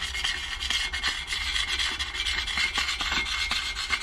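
Steady, close rubbing and rasping as a 2017 Jeep Renegade Trailhawk front brake rotor is sanded by hand, with rhythmic back-and-forth scraping strokes continuing without pause.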